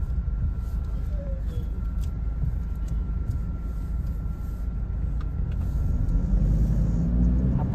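A car runs as it drives along after a wash, with a steady engine rumble and road noise that swells slightly toward the end, heard from inside the vehicle with no voices.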